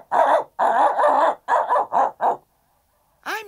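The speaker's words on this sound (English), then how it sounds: "the dog started barking" A dog barks in about six loud, close, hoarse bursts in quick succession, then goes quiet before a brief harmonic whine or yelp at the end.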